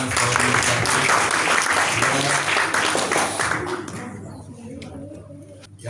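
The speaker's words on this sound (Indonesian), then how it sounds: "Sekali lagi tepuk tangan buat anak-anak sekolah Universitas." A church congregation at a Sunday worship service applauds the university school children, a loud, dense wash of many hands clapping that holds strong for several seconds before thinning and fading out near the end.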